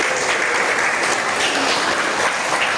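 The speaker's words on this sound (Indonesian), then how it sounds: "Kasih tepuk buat kalian ya." Dense, loud clapping from an audience at a university opening event, a continuous close wash of applause throughout.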